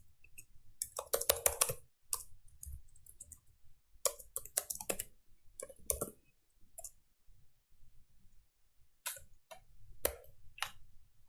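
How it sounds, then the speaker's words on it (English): Computer keyboard typing, with faint, irregular bursts of clicking keys separated by short pauses and no voices over them. "simply type in another option"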